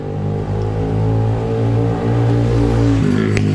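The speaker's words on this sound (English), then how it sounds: "just a second, the motorcycle" A motorcycle passing close by on a street in an upscale Rwandan neighborhood, a loud, steady engine drone with a rumbling harmonic tone that holds throughout and shifts slightly near the end.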